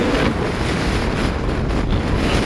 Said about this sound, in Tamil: இங்கே பாருங்க எல்லாம் தண்ணி பாயுது